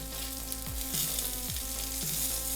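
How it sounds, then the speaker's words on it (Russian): Continuous loud sizzling and crackling of battered chicken frying in hot oil, close by, with a low hum underneath. "как это все дело жарится"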